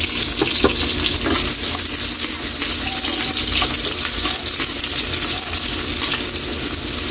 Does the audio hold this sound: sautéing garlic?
yes